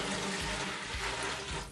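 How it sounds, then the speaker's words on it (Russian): Water pours continuously into a stainless steel container while preparing sugar mash for home distilling, a steady close rushing splash with no voices. "берем воду, наливаем ее в нержавеющую емкость"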